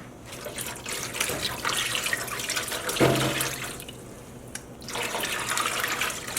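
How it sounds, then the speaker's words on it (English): Tap water runs into a dye pot holding a vinegar and water mix for acid-dyeing a yarn mop: a steady, hissing stream close by, briefly checked midway and again near the end before flowing on, with no talk. "So we just added a total of 8 cups of water with 2 cups of vinegar to our concoction."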